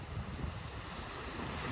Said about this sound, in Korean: 파도가 소리가 참 좋은 것 같아요.